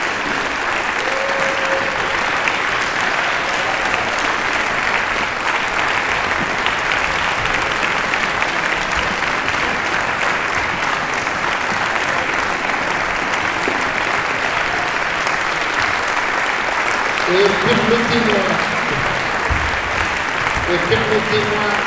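Sustained, dense applause from a large audience at the closing of a botanical conference honours the organising committee and volunteers, steady and loud throughout, with a few brief voices surfacing near the end.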